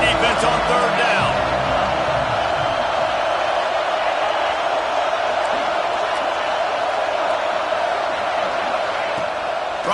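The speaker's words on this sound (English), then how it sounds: "Decibels rising as the crowd gets behind this defense on third down." At a college football game between Oklahoma and Michigan State, a stadium crowd roars on third down as a dense, sustained wash of noise, with a commentator talking over it throughout.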